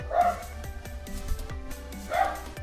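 Dog barking close by, two loud barks roughly two seconds apart with softer yips and rhythmic thumps in between, no speech.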